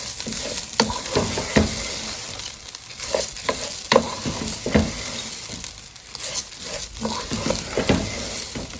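Rice toasting in a hot pan for a pilaf, sizzling steadily while a spoon scrapes and stirs it in repeated strokes, close and fairly loud with no talk.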